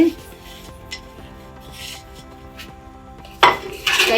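Spoon scraping and clinking against a pan while Thanjavur kesari is stirred, soft rhythmic strokes with a couple of sharper metallic scrapes near the end, a voice faintly under it.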